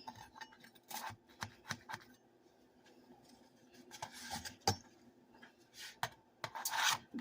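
A knife cuts a small corner out of a baked bread pudding, giving a series of short, close scraping and rasping strokes with brief soft taps, the last burst a little longer and brighter.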